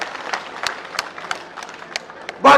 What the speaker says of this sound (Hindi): वह दोबारा ताली बजा दे इस बात पर